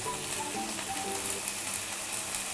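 Fried vegetables with added spices, chilli powder and salt, sizzling in a pan for a macaroni snack, a dense steady crackling hiss, close and even throughout.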